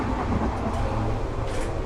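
A Norwegian train runs, heard from inside the carriage: a steady, fairly loud low rumble with faint clattering from the rails and no speech.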